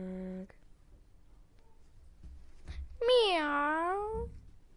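A single drawn-out cat meow, clear and close, rising then falling in pitch, following a short electronic tone and some faint rustling.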